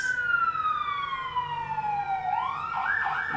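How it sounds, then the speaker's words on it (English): A video game police siren wails steadily, its tone sliding slowly downward before breaking into a rising and falling yelp, moderately loud with traffic rumble beneath. "I don't know if you can hear those sirens"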